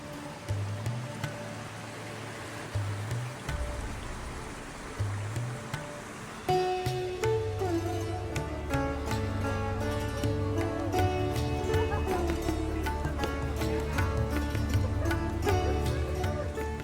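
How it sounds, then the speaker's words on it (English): Waterfall high in the Sierra Nevada mountains, a steady broadband rush of falling water heard up close and continuously, with music joining partway through and carrying over the roar. "The Waterfall."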